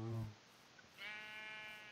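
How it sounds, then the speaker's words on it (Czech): Bleating sheep in the video game Minecraft: a short, moderately loud harmonic bleat at the start, then a sustained higher-pitched bleat after a brief pause, with no talk over it. "Ahoj, ovečky."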